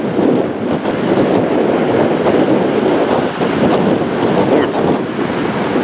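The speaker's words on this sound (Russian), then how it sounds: "сильные волны." Loud, continuous roar of heavy surf crashing nearby, with wind buffeting the microphone throughout.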